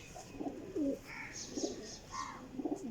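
Pigeons coo in soft, low, throaty bursts, several short rolling calls repeating over a few seconds at moderate distance, with faint higher chirps in between.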